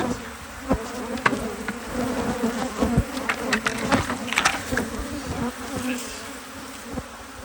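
Angry bees swarm inside a house during a removal, a dense continuous buzzing close to the microphone with sharper individual wingbeats darting past and occasional knocks.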